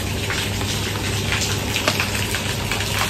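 Monsoon rain falls steadily outside a house, making a continuous dense hiss and patter with scattered drips. The sound stays even and fairly loud throughout, with no talking.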